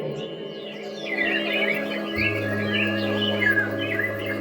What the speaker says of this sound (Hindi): चिड़िया चहक रही है, कोयल बोल रही है।